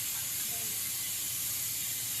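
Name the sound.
pressure cooker releasing steam, weight removed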